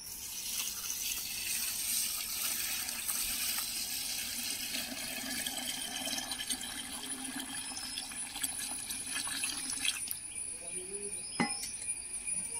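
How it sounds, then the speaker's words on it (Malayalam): Rice starch water poured into a bucket of homemade garden fertilizer containing neem cake, a continuous watery pour and splash with a few sharp clinks near the end. "അടുത്തായിട്ട് ലാസ്റ്റ് ആയിട്ട് നമുക്ക് കഞ്ഞിവെള്ളം ഇതിലേക്ക് ഒഴിച്ചു കൊടുക്കാം കേട്ടോ."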